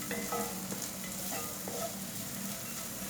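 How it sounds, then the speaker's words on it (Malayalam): Onion, ginger and green chilli sauté in a pan for idli chilli fry, making a soft, continuous sizzle with a few faint stirring scrapes, quiet and even throughout. "അതാ ഉള്ളി, ഇഞ്ചി, പച്ചമുളക് എല്ലാം നന്നായിട്ട് വഴന്നു വന്നിട്ടുണ്ട്"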